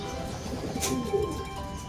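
A soft, low bird coo rises briefly over a steady background murmur, close but faint.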